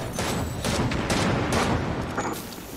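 Rapid gunfire in a shooting video game, dense overlapping bursts of shots, loud and sustained across the short stretch.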